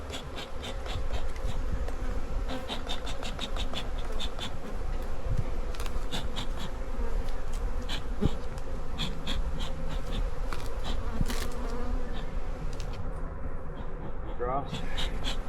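Dense, continuous buzzing of many honey bees fills the scene up close at an open hive, steady and loud throughout with faint handling noises of frames.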